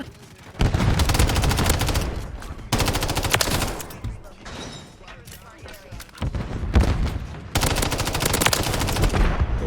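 Rapid machine-gun bursts and gunfire crackle in Call of Duty: Modern Warfare III, loud volleys repeating in several long stretches with short lulls between, while a player talks over the shooting.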